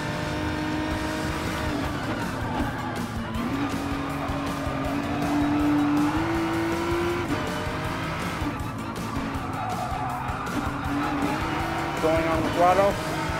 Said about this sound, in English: Going on the throttle.